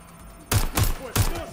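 Gunfire from the video game Watch Dogs Legion: four loud, sharp shot bursts in quick succession after a brief quiet start, each with a booming low thump and a crackling tail.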